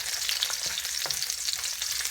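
Red onion sautéing in a pan for ginataan crackles with a steady, bright sizzle, a few soft stirring knocks poking through, close and alone without any talk.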